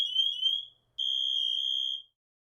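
An MSA G1 SCBA manual alarm sounds during a test: a piercing high electronic tone in two bursts, the first under a second, then a brief gap and a steadier one-second tone, close and loud with no voices.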